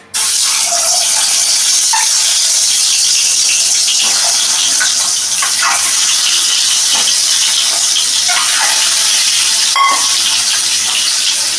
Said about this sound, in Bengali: আমি এবার ডিমগুলোকে হালকাভাবে একটু ফ্রাই করে নেব